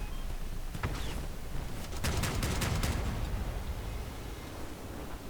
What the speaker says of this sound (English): So first I have to fire at those.